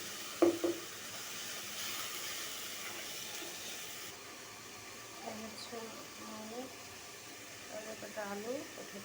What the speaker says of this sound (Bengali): যতক্ষণ না তেল ছেড়ে দেবে ততক্ষণ সুন্দর করে ভাজতে থাকবে